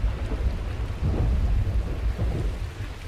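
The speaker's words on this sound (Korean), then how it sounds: "우르릉 우르릉 쾅쾅하고 천둥이 울렸습니다. 그러더니 후두두 후두두 비가 내리기 시작했습니다." A heavy thunderstorm with deep rolling thunder and dense, steady rain, loud and continuous throughout, with no voices.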